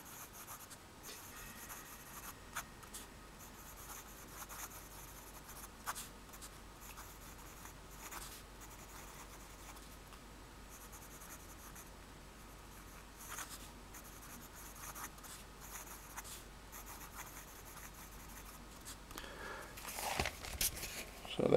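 A Pilot 78G fountain pen with a broad nib scratching across paper, soft continuous strokes and small taps over a long stretch, close but quiet, with louder handling rustle at the end.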